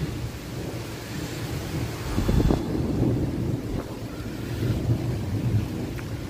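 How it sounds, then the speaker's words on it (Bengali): A storm outside with deep rolling thunder and strong gusting wind, heavy rain falling, a low rumble swelling midway over constant roaring wind noise, with no talk. "যেমন মেঘ ডাকছে তেমন হাওয়া দিচ্ছে।"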